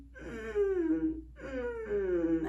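A voice imitates a creaking door in a vocal creak exercise: two drawn-out, squeaky glides that slide downward in pitch, each about a second long, close and alone.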